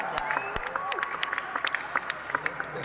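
Spectators applaud for player Swastik during a points-scored semifinal match: scattered, sharp claps over a steady crowd murmur, fairly close and moderately loud.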